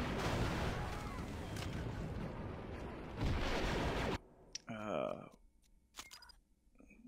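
Grenade blasts in the Star Wars: Republic Commando video game: a few seconds of loud, dense, rumbling explosive noise with a sharper burst near the end, then a cut to quieter clanks and whooshes, with a voice talking over it.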